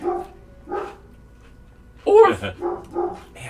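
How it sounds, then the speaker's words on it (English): Several dogs bark in short bursts from the background of a home, a couple of isolated yips then a louder cluster of barks and whimpers near the end, with a voice talking faintly among them. "I apologize for all of the extra ambient background barks"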